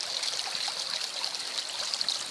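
Creek water runs steadily over bedrock on a calm day, a continuous close, bright hiss and trickle with no voices.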